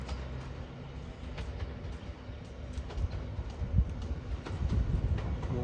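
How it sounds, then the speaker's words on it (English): A diesel train rolls toward Barrow-in-Furness, a steady low rumble with faint rhythmic clicks of wheels on the rails, heard from on board or close by and growing slightly louder toward the end. "Right, this is our first train towards home now."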